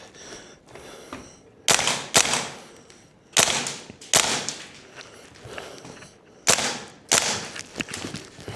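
A VFC G36C gas blowback airsoft rifle fires shot after shot, sharp loud cracks with a mechanical recoil snap, some in quick pairs, spaced irregularly across the stretch with handling noise between.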